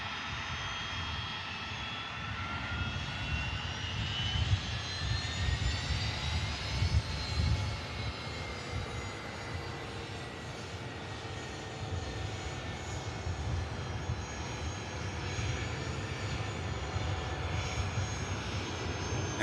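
Air France jet rolling down the runway for takeoff at Manchester Airport, a distant engine roar that rises in pitch and builds, then holds a long steady drone.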